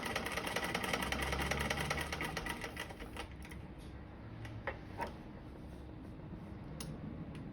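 A sewing machine stitching an overlapping seam through several fabric layers, running as a steady fast mechanical whir and ticking that eases off, with occasional sharp clicks, fairly quiet and with no talk.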